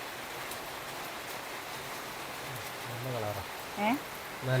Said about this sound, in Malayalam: മഴ പെയ്യട്ടെ അല്ലേ?